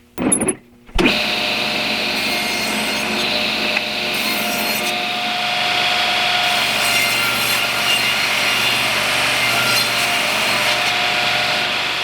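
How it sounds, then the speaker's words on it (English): A power saw cuts reclaimed century-old barnwood to length. A short bump of handling opens it, then the blade rasps through the weathered board in one long, loud, steady pass lasting about eleven seconds. "I start out by cutting some reclaimed barnwood to length and width."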